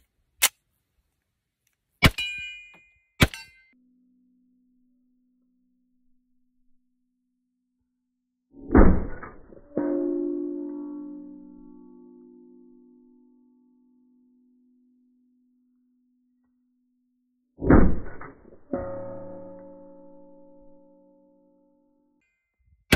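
A Colt Gold Cup .45 ACP pistol fires at steel targets about 15 yards away. Sharp shots are spaced apart, each followed by a ringing metallic ping that fades slowly.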